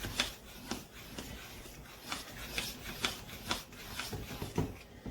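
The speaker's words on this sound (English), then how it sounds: "You just use a fork and mix it up" Fork stirring cake batter in a bowl, with rhythmic scraping strokes repeating about twice a second, close and fairly loud, no talk.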